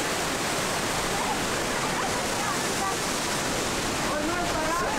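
A powerful waterfall in Baños, Ecuador roars continuously as a dense, loud rush of crashing water, close and unbroken throughout.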